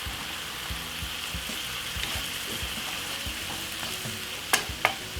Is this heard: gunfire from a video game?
no